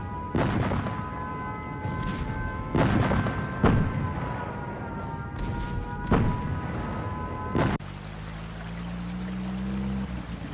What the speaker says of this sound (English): The bombs don't fall too far from here.